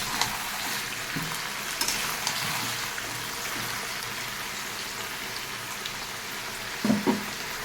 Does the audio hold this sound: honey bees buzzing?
no